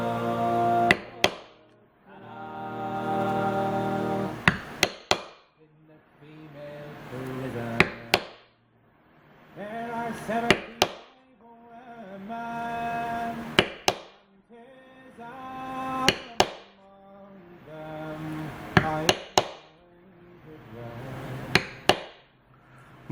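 Repeated sharp metal-on-leather taps from a basket weave stamp being struck into leather, coming in clustered bursts of strikes with brief gaps between, close and clear with no voices.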